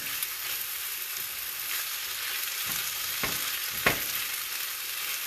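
Eggplant fries in a pan with a continuous close hiss and crackle, and a few brief utensil scrapes cut through the sizzle.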